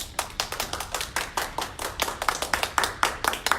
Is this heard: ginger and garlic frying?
no